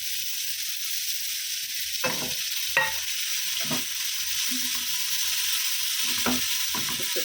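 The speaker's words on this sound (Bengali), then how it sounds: "উচ্ছে আলুটা এখানে আলাদা করে ভাজছি।" Bitter gourd and potato pieces fry in oil with a steady sizzling hiss, broken by several scraping stirs of a spatula against the pan, close and loud, with no talking.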